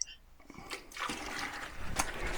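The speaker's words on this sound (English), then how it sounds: "I'm going to put 2 more gallons of water in this 5 gallon bucket." Water from a faucet runs into a 5 gallon bucket, a faint steady rushing and splashing fill that swells slightly as it continues, with no talking.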